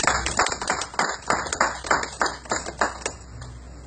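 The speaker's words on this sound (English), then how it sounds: "Clap for Jesus." Church congregation clapping in unison at a Baptist service, a steady rhythmic run of sharp handclaps over roughly four seconds, close and fairly loud, with no talk over it.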